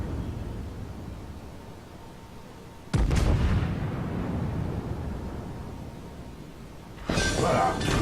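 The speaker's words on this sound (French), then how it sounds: "Vous voyez, première salve a été moisie, la deuxième, elle était plus..." Battleship gun salvos firing in World of Warships, two heavy booming volleys, one near the start of the second half and another near the end, each followed by a long rumbling decay over steady background noise.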